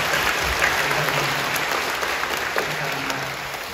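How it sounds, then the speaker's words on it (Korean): A church congregation claps in a brief, steady burst of applause during a service, full and even from start to finish. "박수로 격려해 주시죠"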